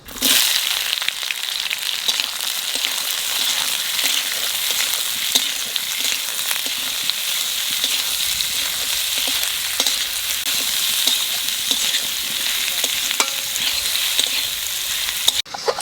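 Onions fry in oil with bay leaves and cumin, giving a loud, continuous sizzle with frequent crackling pops and stirring scrapes throughout. Nobody talks.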